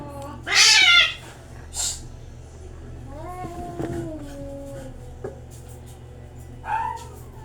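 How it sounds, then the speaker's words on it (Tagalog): Several meows and yowls from cats, one loud and close early on, others fainter, over a low steady hum from a washing machine being diagnosed, with a voice briefly. "may pusa kami naglalandian yung pusa namin"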